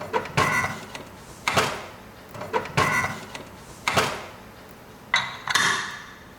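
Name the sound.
pressure cooker lid being closed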